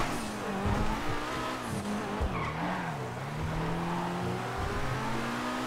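A Lamborghini races in GTA RP, its engine droning loud and steady with pitch swells as it accelerates and shifts, alongside brief tire squeals.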